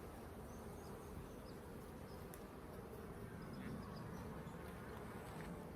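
Agitated honey bees swarm around an open hive during a honey check, a faint, dense, steady buzzing hum that carries without a break, with occasional closer wingbeats passing by.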